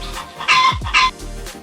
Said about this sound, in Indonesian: suarane pitik petok petok